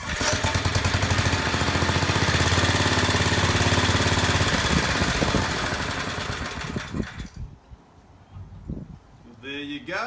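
A small engine kicks over on carburetor cleaner and runs loudly with a rough, rapid chugging, then falls away and sputters to a stop, with a voice speaking briefly near the end.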